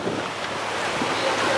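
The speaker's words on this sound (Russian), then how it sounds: "Вот он, океан." Steady roar of ocean surf breaking on the shore in Goa, India, with wind buffeting the microphone, a continuous broadband wash with no voices.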